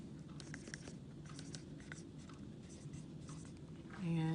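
A pen scratches across paper in short, quiet, irregular strokes, close and faint, ending as a voice starts speaking.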